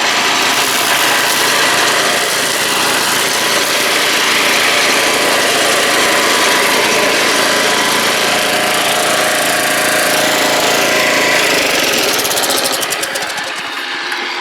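A salvaged lawn mower engine runs steadily and loudly close by, a constant broadband drone with a rapid firing rhythm, winding down toward the end.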